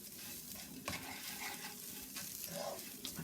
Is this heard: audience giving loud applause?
no